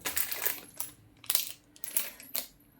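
Rose gold bangles jingle with bright metallic clinks in several short bursts, close by and fairly quiet, with brief pauses between shakes and no talk.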